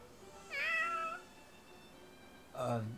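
A cat in the video game Fire Emblem Warriors: Three Hopes lets out two meows, a longer rising call followed after a pause by a shorter, lower one, fairly close and clear over a quiet background.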